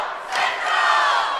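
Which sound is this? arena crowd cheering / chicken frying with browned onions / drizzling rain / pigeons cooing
arena crowd cheering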